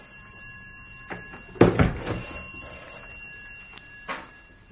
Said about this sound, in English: The phone, if you'll excuse me.